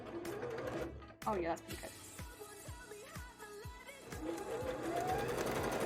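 A sewing machine stitches thin test fabric for bra making, its needle hammering in quick bursts that pause and restart, while a person talks over it.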